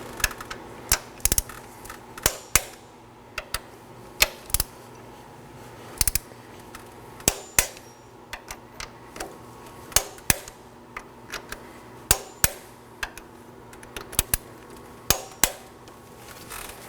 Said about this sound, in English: Now I'm going to torque my bolts on the motor side to 33 foot-pounds.